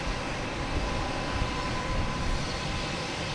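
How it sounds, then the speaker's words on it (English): A Condor Airbus A330 airliner at Boston Logan Airport, bound for Frankfurt, gives off a steady, dense jet roar that holds its level the whole time, heard from a distance with no talking. "So we got Condor. That's heading back to Frankfurt, an A330."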